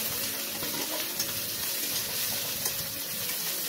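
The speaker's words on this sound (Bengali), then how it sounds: "এবার এখানে দিয়ে দিলাম আদা রসুন পেস্টটা, দিয়ে নাড়াচাড়া করে নেব।" Ginger garlic paste sizzles and fries in a pan with two medium onions, stirred steadily with a spoon; the frying is loud and continuous throughout, with no one speaking.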